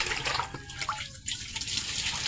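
Water running during kitchen cleaning, a steady splashing, gushing flow like a tap or poured water, continuous and fairly close, with no talking.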